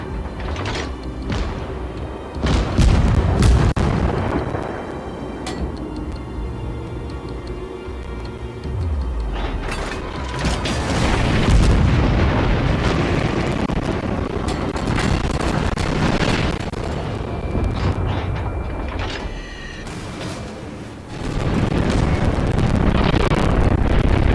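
Incoming naval gunfire in World of Warships: heavy booming shell impacts and explosions roll in over a constant rumble of ship and wind noise, with big surges near the start, middle and end.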